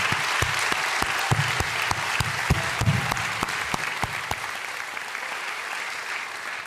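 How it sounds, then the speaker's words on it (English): Audience at an MBA graduation ceremony applauds, a steady wash of many hands clapping with a few sharp, distinct claps standing out, sustained throughout and gradually softening toward the end. "Let us applaud him again for his..."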